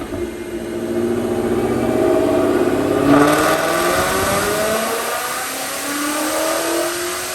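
A supercharged 2016 Roush Mustang RS3 with upgrades and long tube headers roars on a dyno pull, climbing steadily through the revs in one loud, sustained sweep with a whining rise.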